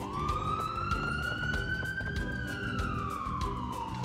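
Ambulance siren wailing steadily through city traffic, a single rising and falling tone that stays loud and close, with car horns and street noise around it.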